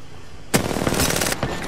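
Gunfire in the shooter video game Apex Legends, a sudden loud burst of rapid shots lasting under a second after a brief quiet lead-in.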